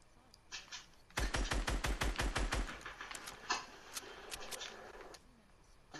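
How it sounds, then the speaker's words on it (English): Rapid automatic gunfire in the Fortnite video game, a loud burst of about a dozen evenly spaced shots followed by scattered single shots and clicks. "Being shot at."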